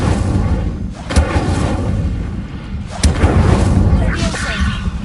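The Incendio fire spell is cast repeatedly in Hogwarts Legacy, each cast a sharp whooshing burst with a low thump, two strong hits standing out amid continuous game effects and background noise.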